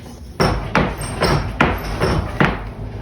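A blacksmith strikes a hot iron bottle opener on the anvil face in a fort blacksmith shop, about five sharp ringing hammer blows at an uneven pace, close and loud, with a faint hum underneath and no talking.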